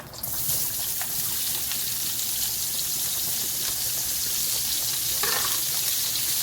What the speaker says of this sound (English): Now we'll take our large yellow onion and add it into the grease